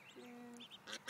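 Ducks quack close by while being fed at breakfast time, giving a few short nasal calls in quick succession with faint background hiss.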